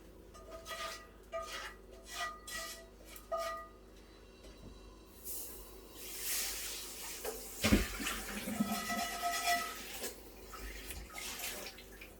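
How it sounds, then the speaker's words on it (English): Running water gushes from a tap into a hot frying pan being rinsed out during cooking, a broad steady rush with a brief sharp hiss and clatter partway through, continuing close and fairly loud after earlier faint kitchen clicks. "I'm going to quickly rinse out the pan and then put some more oil in it"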